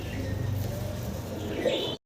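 Local Golla pigeons cooing in a loft, soft low repeated coos close by over a busy background, ending abruptly.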